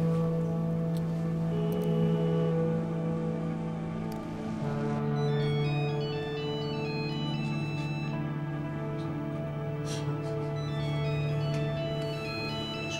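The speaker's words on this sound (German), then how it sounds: "Entschuldigung, mein Handy." A mobile phone ringtone plays a steady, sustained electronic melody of bright repeating tones, loud and close, running on without pause and with no talk over it.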